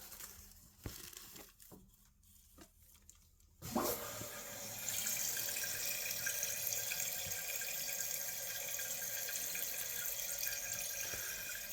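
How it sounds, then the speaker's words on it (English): Water rushes into a repaired dual flush toilet after the supply is turned on, starting abruptly after a few faint clicks and handling noises, then holding as a steady, close hiss of filling water. "And then turn on the water."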